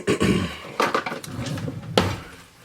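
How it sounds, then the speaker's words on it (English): Salt, pepper and garlic powder get mixed in a bowl, with a series of clinking, scraping utensil-against-dish sounds in quick irregular strokes, fairly close and alone. "we're going to mix this all together really quick"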